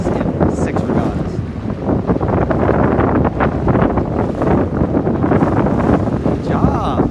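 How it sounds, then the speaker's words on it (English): Strong wind roars across the microphone aboard a C420 sailing dinghy during a regatta, a loud continuous buffeting rush mixed with water noise, with a voice faintly talking underneath. "We don't get this much wind."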